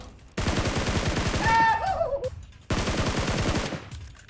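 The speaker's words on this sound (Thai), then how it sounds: "ยิงแบบรวดเร็ว" Two long bursts of rapid automatic video game gunfire, from a Groza rifle, rattle in quick succession, loud and close, with a brief metallic ring between them.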